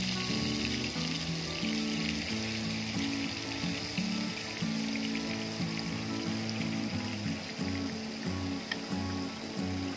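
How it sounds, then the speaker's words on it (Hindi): Paneer cubes fry in hot oil over high heat, giving a steady, dense sizzle and crackle that runs the whole time beneath a layer of background music. "तो चलिए एक एक करके सारे पनीर के क्यूब्स को आप फ्राई कर लीजिए।"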